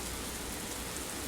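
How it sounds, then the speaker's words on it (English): Rain falls steadily, pouring hard enough to make a continuous soft hiss on surfaces, faint and even throughout with no voices. "I don't know if you guys can hear it, but it's raining pretty good"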